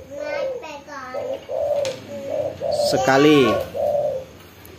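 Zebra doves and spotted doves coo in repeated, evenly spaced calls, loud and close, while a voice talks over them in places.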